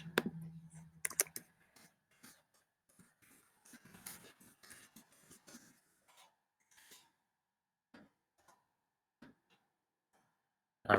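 Computer mouse clicking at a desk, sparse sharp clicks scattered across the stretch with quiet gaps, faint and close, with a brief louder burst early on.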